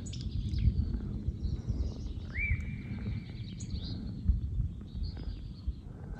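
Several scattered bird chirps and a rising whistled call echo through Aravaipa Canyon over a constant low rumble of wind or water.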